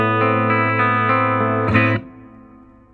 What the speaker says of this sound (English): The reverb that comes with this is great. It really fills up the room